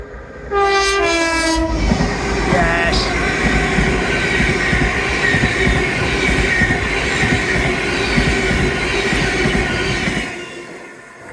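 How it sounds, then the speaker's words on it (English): A train horn blares at the start, then a loud, continuous rumble and clatter of rail cars rolling past nearby, with a brief word spoken. "got a couple of trains coming past"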